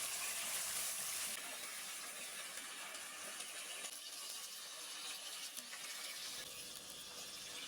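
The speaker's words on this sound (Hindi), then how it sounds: "इसके बाद डाल देंगे चिकन। और चिकन को थोड़ा सा फ्राई कर लेंगे।" Chicken fries in a pan with cumin for white biryani, a steady bright sizzle and hiss that stays fairly even throughout, close and alone with no talk.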